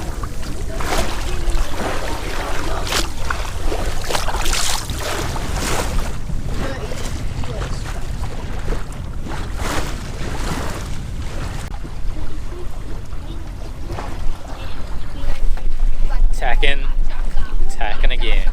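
A sailboat tacking on open water near St. Helens, with loud, steady wind rush and water noise filling the whole stretch and occasional voices underneath.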